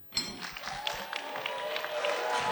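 Wedding guests break into applause after the best man's toast, a dense crowd clapping that starts abruptly and swells steadily louder, close and continuous throughout.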